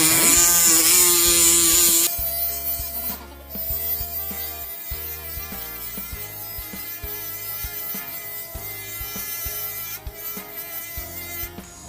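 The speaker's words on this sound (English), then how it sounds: "Very slowly but very firmly hold your base plate in your hand and your micromotor like this." A dental micromotor fitted with sandpaper smooths a denture base plate, a loud, continuous high-pitched whine that drops in pitch once it bites into the plate and wavers steadily throughout.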